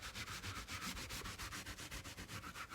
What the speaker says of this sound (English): you'll get all that off with your rag. Scrub it in there.